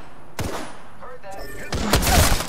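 A few loud gunshots ring out in Apex Legends, an opening crack followed by a heavier burst near the end, close and punchy, with a voice briefly speaking between them.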